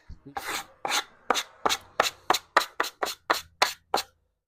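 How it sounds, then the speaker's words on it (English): A sanding block rubs back and forth over wood to deburr and round off the corners of a mantel clock, a dozen crisp, evenly paced strokes close by in a quiet garage. "deburr this a little bit and then just take some corners off of this with sanding block"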